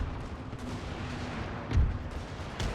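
Cannon artillery fires in the battle game Napoleon Total War, booming shots landing over a continuous battlefield rumble, with a heavy blast near the middle and another toward the end.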